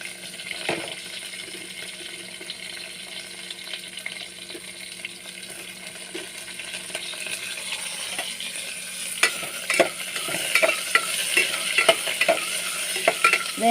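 Pieces of ridge gourd are dropped into a hot pan and stirred, giving a steady moderate sizzle with clinks and scrapes of the spoon that grow busier and louder toward the end, no talking.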